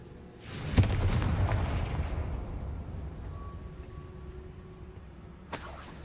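A blasting spell detonates in Hogwarts Legacy with a sharp crack and a rolling boom that decays over several seconds, followed by a faint tone and a second short burst at the end.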